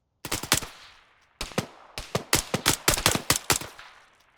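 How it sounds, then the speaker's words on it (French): Gunfire in the military game Arma 3, with loud rapid bursts of automatic shots in several volleys separated by short pauses, sharp and close, with no talking. "Allez, ouverture du feu les mecs."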